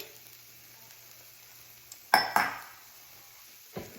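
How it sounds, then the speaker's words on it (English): Egg foo young with shrimp flipped in a hot pan: a quiet low sizzle, then two sharp spatula scrapes and clinks with a burst of hissing, and a softer knock near the end, no talk. "I'm just gonna flip this over so it cooks nicely."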